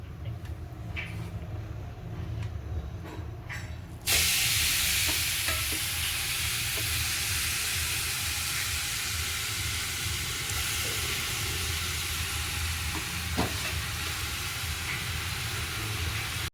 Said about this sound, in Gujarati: ઘી ગરમ મૂકી દીધું છે હવે આમાં પધરાવી દેવાની છે લોહીયામાં